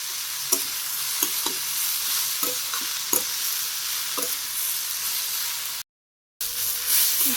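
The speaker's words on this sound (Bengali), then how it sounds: "শুকনো মরিচ ভাজি করে নিই একটু পেঁয়াজ কুচি দিয়ে দিতেছি" Dry red chilies and chopped onion fry in hot oil, giving a steady bright hiss broken by occasional spatula scrapes, close and loud, with a short gap of silence near the end.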